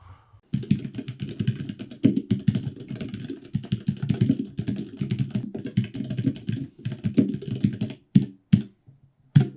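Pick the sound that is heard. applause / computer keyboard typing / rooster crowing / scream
computer keyboard typing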